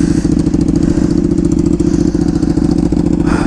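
A Ducati Panigale V2 fitted with a Vandemon full exhaust and dB killers idles close by, a loud, deep, lumpy rumble with a steady pulsing beat throughout.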